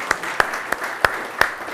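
Sparse, scattered claps from a conference audience welcoming a new board member at an alternative investments forum, a handful of separate sharp hand claps spaced irregularly rather than a full ovation, no talking.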